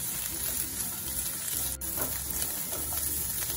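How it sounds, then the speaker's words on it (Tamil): Grated coconut frying in a pan for a sweet bun filling, cooked after scrambled egg, giving a steady close sizzle with light stirring scrapes throughout. "இனி இந்த தேங்காயை கொஞ்சம் ஃப்ரை ஆகணும்."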